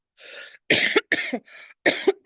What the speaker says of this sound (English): I have this cough here.